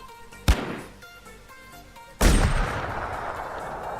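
Gunfire in the battle royale video game H1Z1 Last Man Standing: two sharp, heavy bangs a couple of seconds apart, the second louder with a long rumbling tail over low background game noise.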